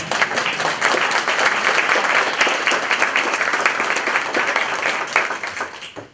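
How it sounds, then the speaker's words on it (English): Applause from an audience at a gathering at the Mississippi Hills Heritage Museum, a dense, loud wash of many hands clapping steadily for about six seconds before tapering at the end. "I think that's worth a round of applause"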